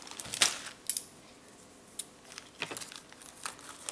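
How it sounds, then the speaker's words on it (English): Plastic packaging is cut open during an unboxing of a quadcopter frame, giving scattered crinkles, snips and sharp rustling bursts, close and fairly quiet, spread irregularly across a few seconds. "Let's cut this open."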